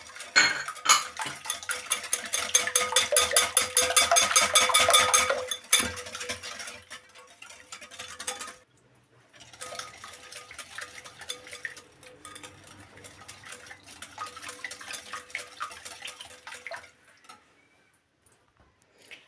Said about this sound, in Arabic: هنا كنبقى نخلط مزيان حتى تذوب سليمه